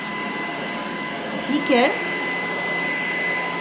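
An Ultenic U12 Vesla cordless stick vacuum cleaner running on carpet, a steady close whine throughout while someone briefly speaks French over it.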